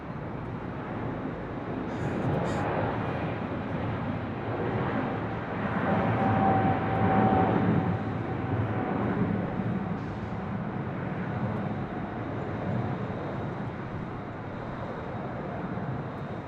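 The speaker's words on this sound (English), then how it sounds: "Philippine Airlines Flight 125 heading back to Manila is racing down" A Philippine Airlines airliner bound for Manila takes off on runway 25 right at LAX, its engine roar a broad, distant rumble that swells midway and then eases off slowly; no talking.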